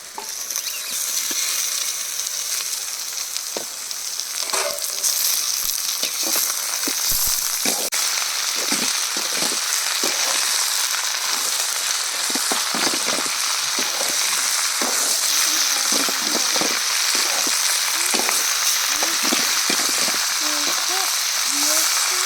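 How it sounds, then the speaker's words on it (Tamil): Chicken pieces fry in a pan among golden sautéed onions, village style, a steady sizzling hiss lasting throughout with repeated clicks and scraping stirs of a utensil, no talking. "வெங்காயம் நல்லா பொன்னிறமாக வதங்கிடுச்சுங்க. இப்போ சிக்கன் போட்டுக்கலாம்."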